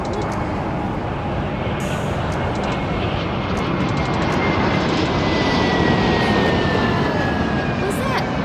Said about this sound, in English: Is it an airplane?